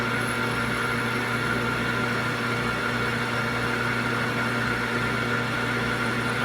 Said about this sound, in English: Again, the lathe is turning at 600 RPM.